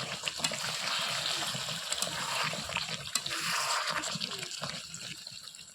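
Hot water poured into a pot of chicken curry on a rainy day, a steady broad splashing gush that runs continuously and fairly close, with no talk over it.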